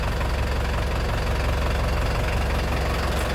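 A Hino or Isuzu truck engine, the Isuzu rated at 115 horsepower, rumbles at a steady low idle with a faint knocking texture and no clear rise in revs, heard alone without voices.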